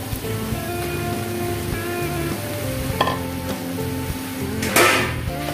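Smashed half-boiled potatoes fry and get stirred in a pan, giving a continuous close sizzle with light scraping and a few sharper crackling bursts, steady in level throughout.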